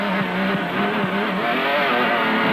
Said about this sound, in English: Ford Ranger was sounding awesome